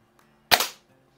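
A single sharp crack from a youth spring air rifle, a Diana model 23 or Falke model 50, close and loud with a short decaying tail in an otherwise quiet space.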